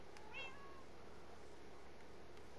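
A cat in the video game Minecraft gives one short, faint meow early on over a steady background hum.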